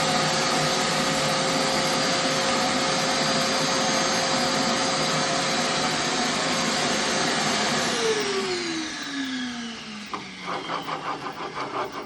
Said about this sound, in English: always make sure that you vacuum the dust up